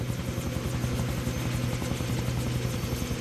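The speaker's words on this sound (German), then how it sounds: "Perfekte Landung dafür, dass er zum ersten Mal ein Helikopter fliegt" Helicopter landing in the PC video game Far Cry 3; a loud, continuous rotor thump with engine whine fills the clip evenly, close and unbroken, with no talking.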